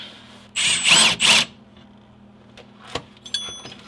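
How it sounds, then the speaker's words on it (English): A 1/4 inch hex drive power tool loosens bolts on the mustache bushing of a Datsun 280Z. It makes two quick whirring bursts close by, followed by faint clicks and rattling metal. "if you don't want to take a long time with a ratchet, I have a 1/4 inch hex drive that I'll be using."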